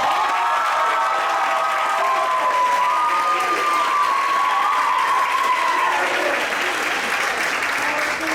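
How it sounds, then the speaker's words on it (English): An audience applauds a student receiving a four-year Letterman patch at a school ceremony, sustained clapping with some cheering and whoops, and voices mixed in throughout. "Please give a round of applause for Anna Gisses."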